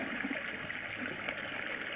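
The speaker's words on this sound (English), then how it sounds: "I'm hearing what I call called a vacuum break, where the pipe sounds like it's completely full of water." Water rushes and gurgles steadily through a drain pipe running completely full, a continuous muffled flow with no pauses and no voices.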